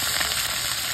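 Sardines fry in a pan with a steady, close sizzling hiss that stays even and unbroken for a brief moment.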